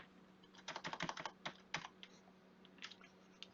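Keys tapping on a computer keyboard during an Ethernet/IP programming session, a quick burst of soft close keystrokes followed by a few scattered taps, faint and without talk.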